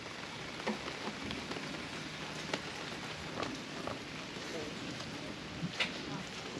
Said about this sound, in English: And it's just raining up a storm.